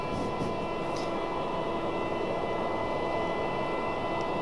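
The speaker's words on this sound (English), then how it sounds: "we have another Southwest getting ready to depart, and I believe this one is going to Orlando" Southwest Airlines jet at Raleigh-Durham airport preparing to depart for Orlando, heard as a steady, moderately distant broadband engine roar with a whining hum, constant throughout without talk.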